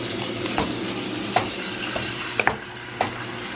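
Meat and onions fry in a pan, a steady close sizzle broken by a few sharp clicks and scrapes of stirring.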